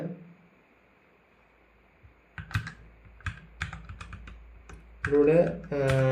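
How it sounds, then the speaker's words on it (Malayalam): Keys clatter on a computer keyboard while C code is typed, a quiet lead-in giving way to bursts of uneven clicks, with a voice joining over the typing near the end. "ഹാഷ്ടാഗ് ടൈപ്പ് ചെയ്യുക. ഹാഷ്ടാഗ് ടൈപ്പ് ചെയ്ത് കഴിഞ്ഞിട്ട്"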